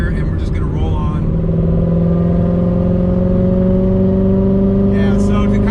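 A C7 Corvette Z06 with a Corsa Xtreme exhaust rolling on the throttle in sixth gear, a loud, deep droning engine note rising steadily in pitch from inside the car, with brief talk at the start and end.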